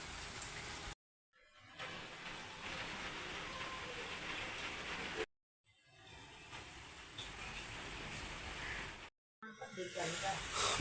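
Heavy rain falls in a Punjabi village as a dense, steady hiss, broken by two brief silent gaps, with a voice speaking faintly beneath it.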